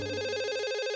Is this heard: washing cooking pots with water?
no